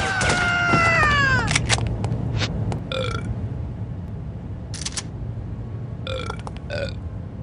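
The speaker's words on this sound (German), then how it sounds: "Und dann ist Kate selbst infiziert und dann läuft sie durch die Gegend und ballert Leute um und rülpst die ganze Zeit" A female character in the spy shooter game No One Lives Forever lets out a long, loud belch, followed by shorter game sound bursts over a steady background hum.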